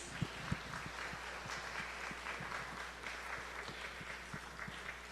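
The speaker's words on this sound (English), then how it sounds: "Let's give them a big round of applause." Congregation applause for volunteers at a church vacation Bible school recap, a dense, even patter of many hands clapping at moderate volume, with a few sharper individual claps standing out near the start.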